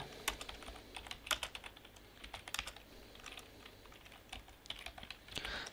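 Rapid, uneven keystrokes on a computer keyboard as text is typed into a Google Docs document, close and fairly quiet, with brief pauses between bursts and no talking.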